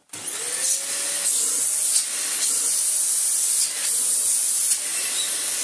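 A Dyson DC25 vacuum cleaner with its hose removed starts up and runs steadily, whining loudly and close with a high-pitched hiss and a few brief dips in tone.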